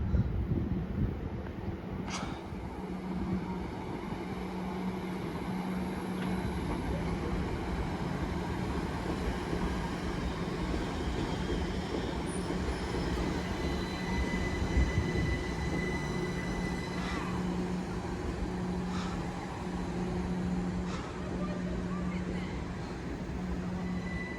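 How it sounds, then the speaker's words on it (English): A Southern Class 377 electric train, unit 377706, pulls in to terminate at Watford Junction after running from East Croydon, a steady rumble and wheel noise filling the platform with faint squeals, close and continuous throughout. "terminating here off of East Croydon is going to be a southern service. (377-706)"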